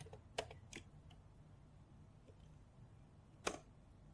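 Faint keystrokes on a computer keyboard while a Linux command is entered: a few isolated sharp clicks spaced apart, with one near the end, over a quiet room hush.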